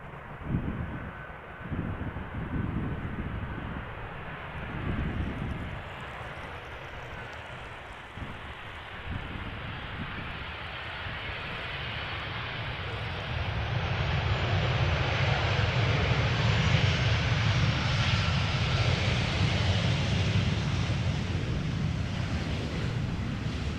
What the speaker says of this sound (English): Croatia Airlines next. A319 arriving from Zagreb.